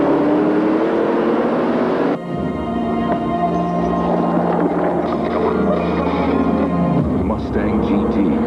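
Ford Mustang GT engine roaring in a 1980s TV commercial, a loud revving drone that shifts pitch as the car accelerates past, layered with music and a narrator's voice.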